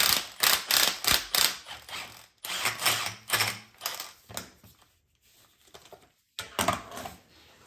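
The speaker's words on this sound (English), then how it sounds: "Now I'm gonna take the top nut off." An 18 mm top nut being worked off a shock absorber in a workshop, with a burst of quick ratcheting clicks in rapid rhythm, a pause, then further shorter runs of clicking, close and fairly loud.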